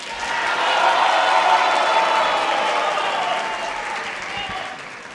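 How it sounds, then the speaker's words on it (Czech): A concert audience celebrating a birthday gives a broad wave of clapping that swells over the first second, holds full and bright, then slowly thins toward the end. "Pravá polovina křičí bravo a levá tleská."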